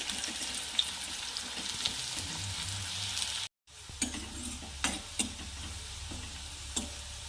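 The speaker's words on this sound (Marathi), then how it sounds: "छान पकू द्यायचं याला ब्राऊन कलर येऊ द्यायचा" A ground spice paste fries in a pan with a close, steady sizzle, broken by one brief silent gap, while stirring adds scraping clicks and taps throughout.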